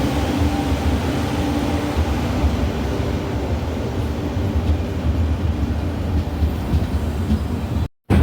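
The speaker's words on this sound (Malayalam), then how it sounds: "അങ്ങനെ പൂനെ കന്യാകുമാരി എക്സ്പ്രസ് പ്ലാറ്റ്ഫോമിലേക്ക് വന്നുകൊണ്ടിരിക്കുകയാണ്." A steady, loud rumble of the Pune–Kanniyakumari Express, a WP7-hauled passenger train, running past a station platform with rolling wheel noise and faint clatter, briefly cutting out near the end, with no talk.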